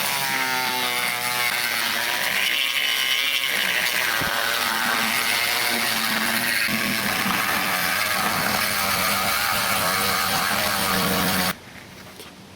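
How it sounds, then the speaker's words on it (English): A rotary sanding drum grinds steadily at the plastic walls of a Traxxas RC car chassis, thinning them down, a loud, continuous close-up whir with rough scraping, cutting off abruptly near the end. "take a sanding drum like that, and you're just going to flip it on and just keep on running back and forth along the chassis just to thin out the walls"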